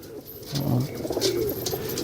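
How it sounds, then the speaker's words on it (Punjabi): Pigeons cooing close by, a short burst of low throaty coos rising and then fading. "ਪੁੰਨੂ ਵਾਲੇ ਕਬੂਤਰ"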